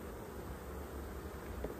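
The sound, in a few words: honey bees buzzing at an open hive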